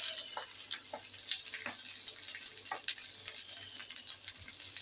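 Leftover rice frying with fried egg and potatoes in a pan, a steady close sizzle with occasional small ticks and stirring scrapes throughout, no voices.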